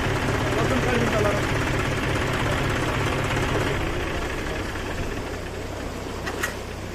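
A tractor engine idles steadily with a low rhythmic chugging and knocking close by, continuous throughout and slowly easing in level, with people talking faintly in the background.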